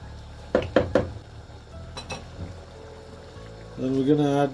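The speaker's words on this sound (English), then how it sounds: "two beef cube stock. And give it a good stir." A spoon stirs kabsa in a cooking pot with beef stock cubes, opening with three sharp knocks against the pot, then softer scrapes and clunks, before a voice starts talking at the end.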